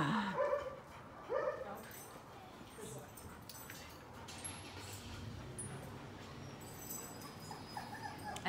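A dog gives a couple of short barks and whimpers near the start during a training session, then stays mostly quiet under steady background noise while a person talks.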